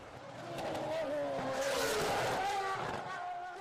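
A Ferrari race car runs through a fast section of the Monaco street circuit, its engine a loud, steady, rising drone that holds for the whole stretch with a hint of tyre noise, while a voice talks over it.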